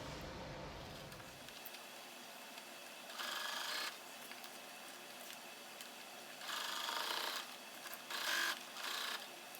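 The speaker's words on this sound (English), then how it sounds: "So I'll take it to the sewing machine and sew down." A sewing machine runs in several short bursts of rapid stitching, stopping and starting, close and moderately loud against a quiet room.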